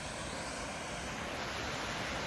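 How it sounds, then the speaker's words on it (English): Small mini waterfall on a stream at Hidden Falls Nature Park in Oregon, a steady, even rush of falling water, moderately loud and continuous with no voices. "To the little mini waterfall."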